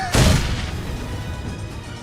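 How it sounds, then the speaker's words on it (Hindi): A grenade blast in the mobile battle game BGMI, one loud booming explosion that hits suddenly and then rumbles and fades over about two seconds. "और भाई एक ग्रेनेड से दो बंदे फोड़ने में जो फीलिंग आती है"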